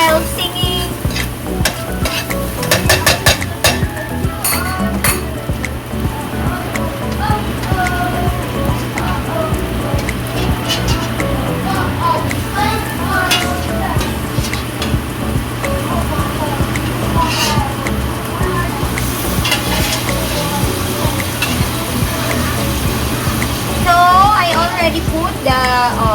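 Tenderized beef for Filipino beef caldereta sizzles and fries steadily in a pan while a utensil stirs and scrapes it, loud and close, with a voice talking over it throughout.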